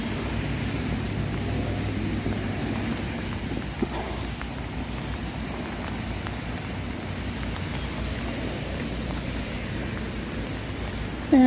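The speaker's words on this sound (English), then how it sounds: "you can see the rain hitting the ground" Steady rain patters down across the whole stretch, a dense hiss of drops hitting the ground with a low rumble underneath and no voices.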